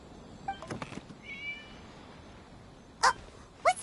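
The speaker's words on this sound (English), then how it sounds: "It was just a cat." A cat meows several times in a video game, first a few short mews, then a longer wavering call, and finally two sharp, louder meows. Each call is separated by quiet pauses, and no one speaks.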